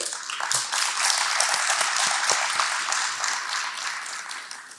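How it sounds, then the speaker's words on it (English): A conference crowd claps continuously for several seconds, a dense, steady wash of applause without any voices standing out. "Let's give them a clap"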